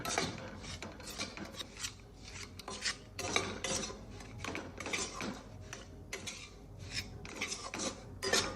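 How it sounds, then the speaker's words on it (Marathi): Moong dal flour mixture roasts in ghee in a kadhai, heard as a repeated rasping scrape of a spatula against the pan in uneven strokes, fairly close and soft, with no talk. "आपल्याला हे डाळीचे मिश्रण चांगल्या पद्धतीने भाजून घ्यायचे आहे"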